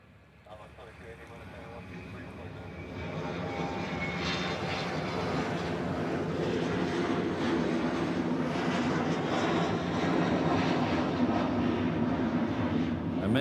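Airliner at Honolulu airport (HNL) passing close by, a broad jet engine roar that swells over several seconds and holds loud and steady; people talk faintly beneath it.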